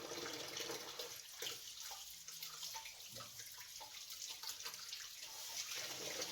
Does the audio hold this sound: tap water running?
yes